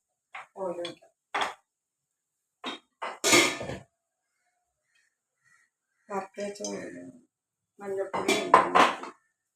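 A metal cooking pan is set down and clattered during the making of hot tapioca bondas, giving a few sharp, bright clanks and scrapes in separate bursts with silences between, close and fairly loud.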